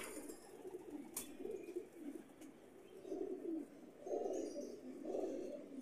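Golden red-eyed pigeons cooing in a loft, soft low coos rising and falling in repeated phrases, close but faint, with a sharp click or two and no talking.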